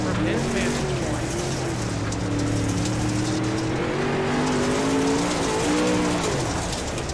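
Onboard wedge-body race car at Kokomo in the All-Star Racing Series: a loud engine droning and rising and falling in pitch, with other cars roaring around it and a commentator talking over it.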